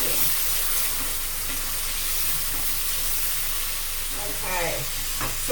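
White wine sizzles and steams off in a risotto pan, a steady broad hiss with a few light stirring scrapes near the end, close and fairly loud.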